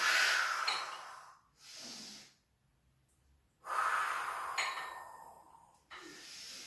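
Deep breathing during a chest press workout: two long, strong breaths with airy hiss, each followed by a shorter softer one, separated by a near-silent pause. The breaths are close and loud, with no talk.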